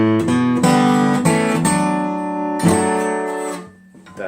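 Acoustic guitar fingerpicks a song passage in open D, bright plucked chords and a walking bass line ringing close and clear, then fading out.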